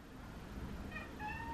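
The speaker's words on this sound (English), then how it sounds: "Oh, the cats are going to have a fight, I think." Cats meowing as they square up to fight, a few short harmonic cries coming in over low background noise, moderately faint and not far off.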